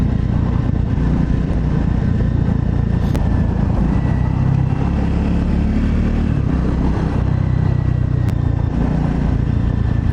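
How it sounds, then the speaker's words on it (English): A car engine rushes past close by over the steady drone of a scrambler motorcycle on a road trip, loud and continuous throughout with brief louder swells as the vehicle overtakes. "this car seems to be in a lot of hurry, so I just let him pass"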